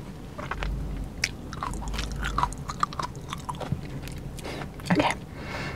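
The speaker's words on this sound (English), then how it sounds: "I love the texture and the crunch of a good little bit of seaweed salad." Close, crunchy chewing of seaweed salad, with irregular bites and wet squishy mastication sounds in quick succession.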